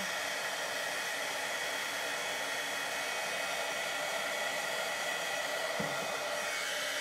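A handheld heat tool blows hot air in a continuous, even rushing hiss, close and steady for the whole stretch, with a brief low thump near the end.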